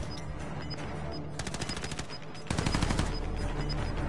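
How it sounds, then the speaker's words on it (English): A decoy grenade in Call of Duty Warzone fakes gunfire, producing rapid, rattling automatic bursts of distant-sounding shots, with a louder stretch toward the end. "That's a decoy grenade."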